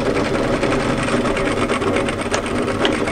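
A sewing machine stitches a seam on a cropped tailored knit military jacket, a loud, continuous rapid whirring hum close up that runs without pause.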